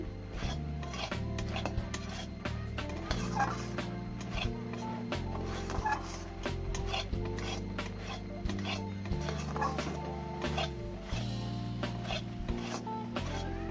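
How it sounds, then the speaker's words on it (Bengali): Semolina halwa stirred and scraped around a pan with a metal spatula, a steady rasping, rubbing stir repeated in quick strokes throughout, close and continuous with no talk. "এইভাবে খুন্তি দিয়ে আমি নেড়ে নেড়ে খুব ভালো করে কিন্তু ঝরঝরে করে নিচ্ছি"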